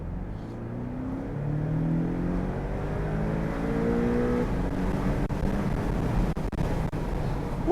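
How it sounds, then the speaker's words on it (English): A 2019 Porsche 718 Boxster 2.0T with sports exhaust revs up through rising gears, a loud, throaty exhaust growl climbing in pitch, heard from inside the car on an open country road. "That acceleration is fantastic, and it sounds great with the sports exhaust as well."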